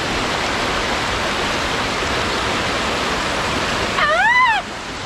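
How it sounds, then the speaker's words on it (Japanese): A mountain waterfall at a campsite spot in the hills roars as a steady, loud broadband rush throughout, with a brief bird-like chirp rising over it near the end. "はい、滝のスポットに来ました。"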